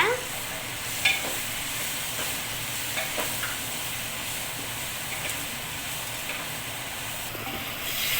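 A spoon scrapes and stirs masala in a pan over a steady sizzle of frying, close by, with occasional clinks and no talking.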